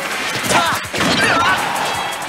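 Marth's up smash lands in a Super Smash Bros. for Wii U match, a dense flurry of crashing, thwacking hits layered over busy game noise and crowd or commentary voices throughout.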